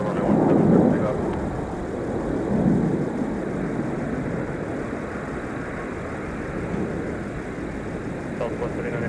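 A Delta jet rolls for takeoff on runway 17 at Minneapolis–Saint Paul airport on a winter day, its engine roar rising then fading into a steady distant rumble, with voices talking over it.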